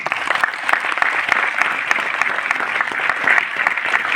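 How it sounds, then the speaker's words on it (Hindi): An audience at a success celebration event in Delhi claps for a woman being honoured, a sustained lively round of many hands with sharp individual claps standing out, steady throughout. "चलो, इनके लिए ताली बजा दी"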